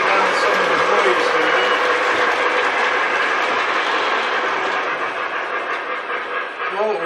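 Model trains running on a layout, a steady loud rolling rumble with rhythmic clickety-clack of wheels over rail joints, continuous and close.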